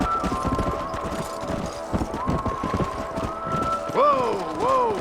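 Horses gallop with rapid clip-clopping hooves in the video game Red Dead Redemption Remastered, steady and close throughout, with wind noise and neighing horse calls near the end.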